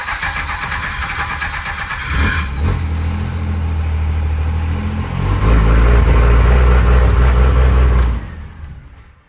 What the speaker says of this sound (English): Let's try this again. And hopefully we have a smoother startup.